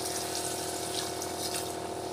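Water pours steadily into a cooking pot for rice in a home kitchen, a continuous, fairly close rushing stream with no talking.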